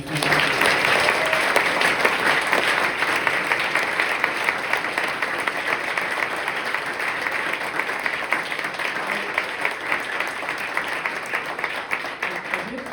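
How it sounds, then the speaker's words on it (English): Audience applause at a book launch and discussion event, a dense, sustained burst of clapping from a seated crowd lasting about thirteen seconds, fairly loud and steady with no talk over it. "Just a round of applause."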